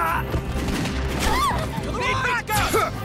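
Gunfire aimed at invaders on a ship's main deck in Final Fantasy Type-0, bursts of shots and crashing impacts mixed with busy battle noise, while voices shout over the fight.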